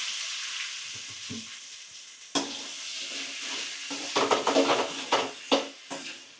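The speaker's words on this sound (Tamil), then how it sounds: "அடுத்தது கிழங்கு வறுக்கிறதுக்கு கொஞ்சமாக கடுகு, அது கூட பட்டை மிளகா, கொஞ்சம் கருவேப்பிலை" Boiled potatoes frying in a pan with mustard seeds, dried red chilli and curry leaves, a close continuous sizzle with popping crackles and a few louder stirring bursts toward the end.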